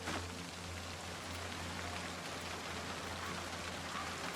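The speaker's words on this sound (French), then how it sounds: "Ouais, il pleut encore." Steady rain in the survival game Project Zomboid, a dense even hiss of falling water with a low hum underneath, constant and close, no voices.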